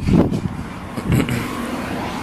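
A 1993 Mercedes 600SL, with the passenger-side throttle body removed, cranks in two short bursts and then catches, settling into a steady close engine sound with no talking.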